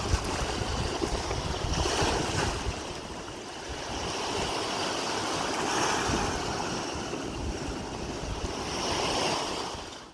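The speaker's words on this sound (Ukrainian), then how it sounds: "Може, слухання шуму моря?" Sea waves roll and wash continuously, a broad rushing surf that swells and eases, with wind noise mixed in and no voices.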